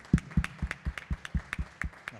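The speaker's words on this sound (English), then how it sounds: "let's give a round of applause" A short burst of audience clapping at a game development meeting, roughly ten distinct claps at an even pace, fairly quiet and with no talking over it.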